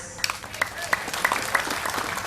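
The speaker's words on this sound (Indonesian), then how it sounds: "Tepuk tangan ke Briges" A crowd at an Isra Mi'raj religious gathering claps. A scattered, moderate patter of hands sits under a voice and a few tonal accents.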